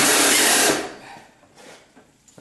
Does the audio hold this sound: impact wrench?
yes